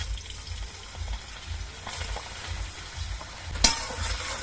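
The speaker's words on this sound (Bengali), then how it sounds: "এবার তেলটা গরম হয়ে যাওয়ার পর এর মধ্যে দিয়ে দিচ্ছি রসুন বাটা" Garlic paste fries in hot oil, a soft, continuous sizzle with low bubbling pulses and one sharper crackle near the end.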